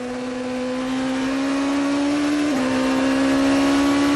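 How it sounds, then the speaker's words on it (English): A 2005 GP2 Series race car engine in Turkey holds a high, steady whine at sustained revs, with a slight pitch shift midway, loud and continuous. "Listen to the engine note."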